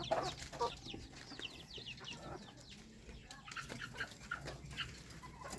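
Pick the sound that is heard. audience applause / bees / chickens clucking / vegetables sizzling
chickens clucking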